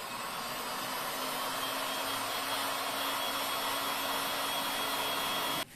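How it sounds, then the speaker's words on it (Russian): A hair dryer blows steadily at close range, drying a thin layer of filler on automotive leather during repair, a continuous even whoosh that cuts off abruptly at the end. "Тонкий слой шпаклевки можно подсушить с помощью фена."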